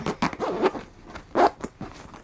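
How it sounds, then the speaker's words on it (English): A zipper is pulled shut on a travel bag packed with wig supplies: several close, rasping strokes in quick bursts with short pauses between. "I'm just gonna go ahead and zip it up"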